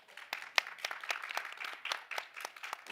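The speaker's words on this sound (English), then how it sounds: "A round of applause for Leah." Audience applause at a COP28 panel hangout, steady clapping from many hands with sharp individual claps standing out, moderately loud and continuous for the whole stretch.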